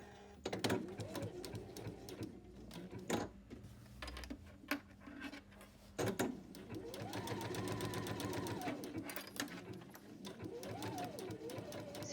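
A home sewing machine stitches a fabric necktie near its tip, running in short bursts with pauses and one longer steady run.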